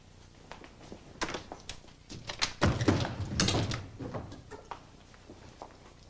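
An indoor door being shut, heard as a few soft knocks and a firmer thud with some shuffling handling noise around it, fairly quiet and without speech.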